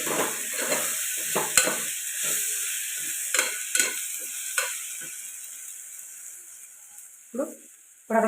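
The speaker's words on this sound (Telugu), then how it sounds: "ఇలా ఒక ఫ్రై చేయండి పప్పు" Dal with tomato and ground coriander frying in a pan, a steady close sizzle with irregular scrapes and knocks of a spoon stirring it, no voices.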